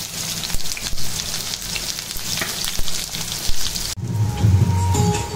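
Onions frying in hot mustard oil, giving a loud, dense, rain-like crackling sizzle that continues throughout, with a short disturbance partway through as the onions are stirred.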